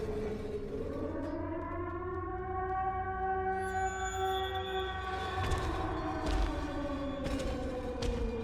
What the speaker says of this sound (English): After 3 minutes, a siren will blare in the background and the fight will be over.